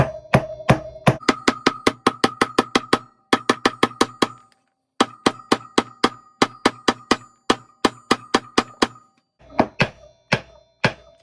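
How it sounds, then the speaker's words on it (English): Hammer tapping a socket to seat a Honda CR wheel bearing, a long run of sharp metallic knocks in quick rhythmic series with short pauses, close and loud, the pitch shifting as it goes. "We're just going to tap down on the socket."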